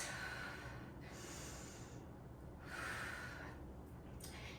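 After a one-dumbbell workout, slow deep breaths, close and quiet, alternating long inhales and exhales in an even rhythm over a low steady background hum.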